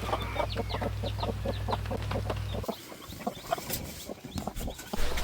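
Hens cluck in short repeated bursts among softer chick peeps, close and fairly quiet, with a low steady hum under the first half that then drops away.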